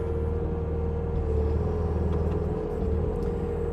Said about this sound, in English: We ended up going with a Bobcat, and we got it with tracks on it.